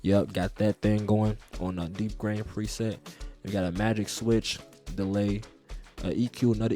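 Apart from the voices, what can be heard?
None of the usual background noises is heard.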